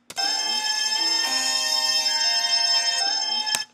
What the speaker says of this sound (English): So I took out the lows. So that instrument sounds really airy pretty much.